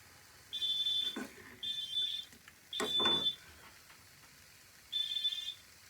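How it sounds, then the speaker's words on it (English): A smoke alarm sounds four times in a kitchen during cooking, loud shrill beeping bursts of about half a second each, with brief clatter in the pauses between them. "Sorry, that's the fire alarm."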